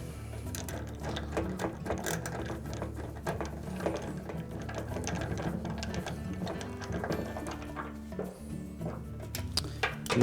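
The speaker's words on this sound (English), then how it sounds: "we'll start one of the screws to secure it" A screw being started to secure the replacement baffle inside a Whirlpool clothes dryer drum, heard as a steady close mechanical whirring and ratcheting that runs through the whole stretch with no talk.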